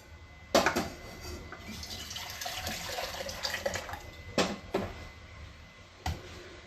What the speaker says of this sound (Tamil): ரசம் இந்த பாத்திரத்தில் ஊற்றிட்டு